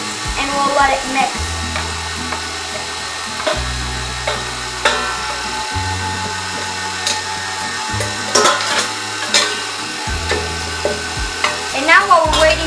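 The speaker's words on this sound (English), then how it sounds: "Now we'll do the rest of the flour and we'll let it mix." An electric mixer whirs steadily as flour is beaten into vanilla sponge cake batter, a continuous motor hum with irregular thumps and knocks from the bowl.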